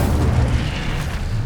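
An Incendio fire spell cast in Hogwarts Legacy, a loud low rumbling whoosh of flame that roars steadily and stays heavy throughout, with no voices.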